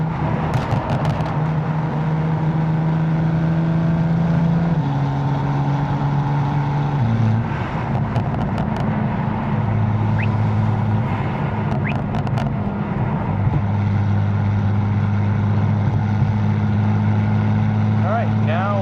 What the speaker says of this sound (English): give it a couple of revs with valves open and closed